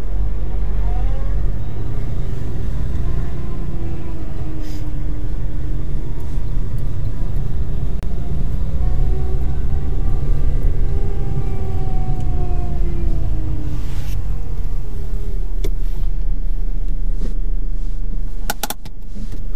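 A car held on a slope during a driving lesson pulls away uphill without the handbrake, the engine's steady low rumble rising and falling in pitch as revs change, continuous and close throughout.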